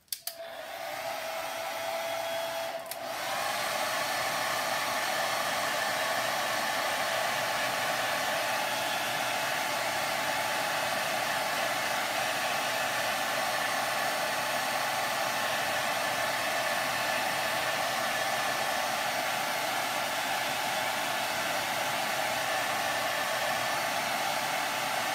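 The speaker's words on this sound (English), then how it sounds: "And I'm just going to dry it with my blow dryer." A blow dryer drying freshly decorated eggs: a loud, continuous close whir that switches on at once, settles after a few seconds and runs steadily to the end with no talk.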